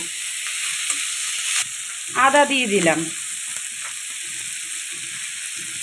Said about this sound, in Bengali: এবার আমি দুটো টমেটো দিয়ে দিলাম ছোট ছোট এগুলো সব আমি ভালো করে কড়াইতে নেড়ে